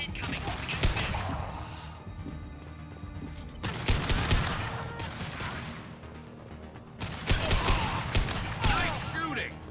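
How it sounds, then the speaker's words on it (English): Gunfire bursts and fusillades in the video game Mass Effect 2 come in several loud clusters, with mechanical clatter and in-game voices between them. "Nice shooting!"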